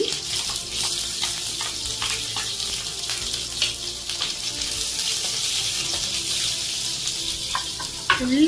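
Curry leaves and onion fry in hot oil for a Kerala thoran, a loud continuous close sizzle with light stirring scrapes and occasional clatter, no talk.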